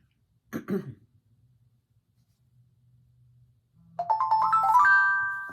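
A mobile phone ringtone plays near a home stitching table, a rising melodic chime that starts after a brief throat clear and a long quiet stretch, ringing loud and close.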